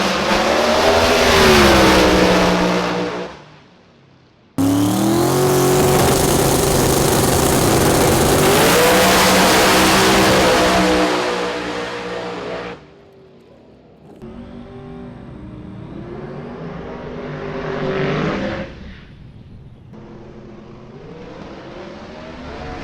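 A Pro Mod drag race car roars loud and close on a test pass, its engine note surging through hard acceleration, cutting out briefly, then returning in rising and falling revs before easing off.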